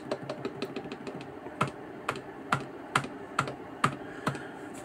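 Rapid clicks of Stream Deck buttons pressed with a finger as fast as possible, a quick irregular run of sharp taps that gives way to a few louder, more spaced presses, close and alone.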